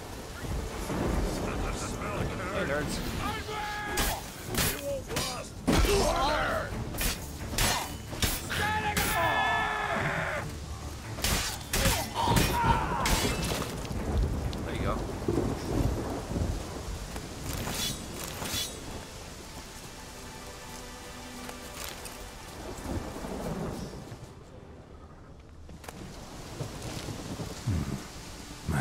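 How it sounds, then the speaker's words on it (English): A thunderstorm in The Witcher 3 brings steady rain and rolling rumbles of thunder with sharp cracks, loud and continuous, while someone talks over it at times. "Storm, damn it."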